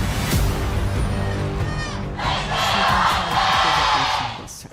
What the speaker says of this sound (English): deafening roar of the crowd here as our players position themselves on the Rift